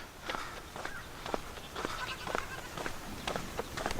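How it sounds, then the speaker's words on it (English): Several goats bleat in short, wavering cries from a distance, repeating irregularly over a faint outdoor background. "Oh, there's goats down there."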